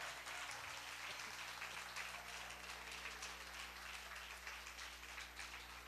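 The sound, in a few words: congregation applauding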